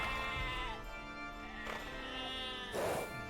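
Sheep bleat in Age of Empires II, several wavering calls in sequence with one louder bleat near the end, heard clearly over soft game ambience.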